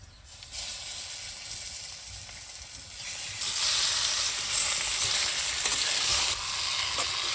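Hot oil sizzles loudly in a pan as chicken fries with cumin, the hiss swelling and growing stronger partway through, with no voices.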